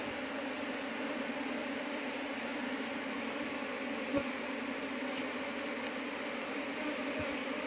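Worker bees buzz inside a hive in a continuous, steady drone, close and even throughout, broken only by one faint click.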